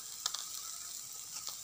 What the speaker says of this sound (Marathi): आणि ह्या मसाल्याला व्यवस्थितशीर परतवायचा